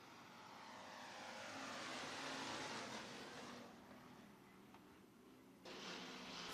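Race cars at Worthington Speedway in a Bomber and Hobby Stock event sweep through turns 1 and 2, a faint, distant broadband roar swelling and fading as the pack passes, with no voices.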